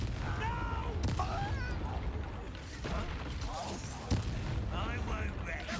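Blasting-spell explosions in the Hogwarts Legacy video game, with sharp booms and rumbling debris amid a busy battle soundscape, and voices heard throughout.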